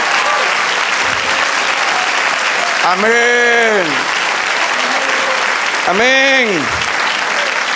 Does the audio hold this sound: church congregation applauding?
yes